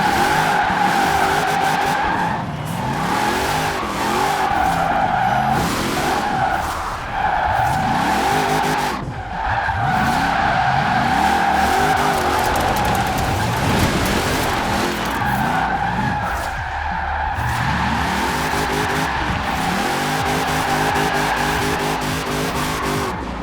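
A 1976 Jeep CJ5 Renegade AWD with a drift tune slides through Forza Horizon 4, its tires squealing in long sustained wails over a steady engine drone that shifts pitch with the revs, loud and continuous throughout.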